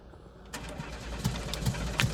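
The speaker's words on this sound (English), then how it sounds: "Car won't start, huh?" A car engine cranks repeatedly without catching, the starter churning in uneven bursts close by and growing louder after a quiet opening, with no voices over it.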